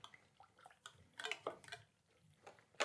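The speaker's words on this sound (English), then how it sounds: "let's whisk up the" Malt extract for a pale ale brew is whisked by hand, giving irregular clinking and sloshing strokes against the vessel, quiet and close, with no speech.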